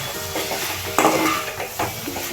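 Jackfruit seeds and raw prawns fry in a pan while being stirred, giving a soft sizzle under a few metallic scrapes and clinks of a utensil against the pan over a couple of seconds.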